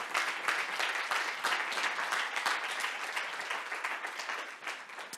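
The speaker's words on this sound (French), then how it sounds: "applaudissons tous les finalistes avant même de commencer" Steady audience applause at a tech awards gala ceremony in Montreal, honouring the finalists; dense, continuous clapping from a large crowd, moderately distant and even throughout, with no voices over it.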